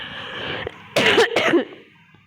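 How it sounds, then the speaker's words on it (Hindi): Two or three harsh, close coughs in quick succession from one woman, following a brief steady background hum. "बीच बीच में बहुत खांसी आ रही है"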